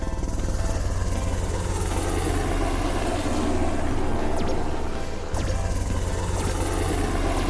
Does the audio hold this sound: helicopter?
yes